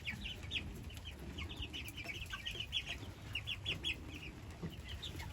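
Chickens clucking in short bursts, fairly close, outdoors in the rain, over a low rumbling background with soft rain-like noise.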